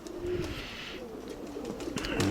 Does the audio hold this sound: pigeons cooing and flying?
yes